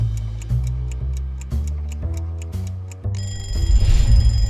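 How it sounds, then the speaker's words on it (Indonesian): A phone alarm rings on its own with a steady repeating pattern of bright electronic beeps over a low tonal melody, loud and close, turning denser and busier near the end. "Setiap pagi mungkin kita bangun karena dengar suara alarm di HP kita"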